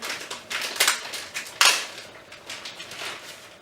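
Plastic packaging crinkles and rustles while a Canon EOS 60D camera's cable is unwrapped, with a sharper crackle midway through a few seconds of close handling noise.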